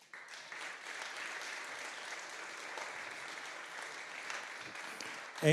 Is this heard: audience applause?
yes